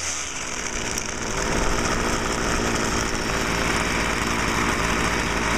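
A Stihl 27cc two-stroke string trimmer engine runs steadily and loudly nearby, a continuous buzzing drone that rises slightly in revs partway through, heard alone without voices.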